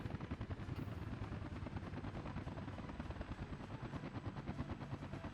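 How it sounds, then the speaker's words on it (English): Firefighting helicopters in the Soviet city-building game Workers & Resources: Soviet Republic give a loud, steady rotor drone with rapid chopping beats, continuous and close, with no talk over it. "I think the helicopters are making a difference."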